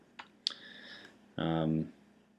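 A few crisp computer mouse clicks tap out near the start, followed by a short, louder buzzing tone, with no talking.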